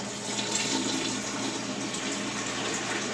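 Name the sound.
pouring broth into a pot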